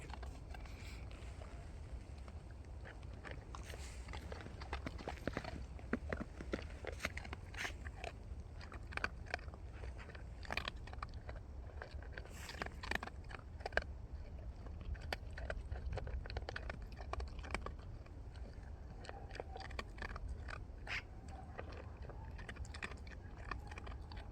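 Quiet, irregular crunching and chewing of a street dog eating kibble and canned food in snowy mountains, with scattered clicks and bites over a low background rumble.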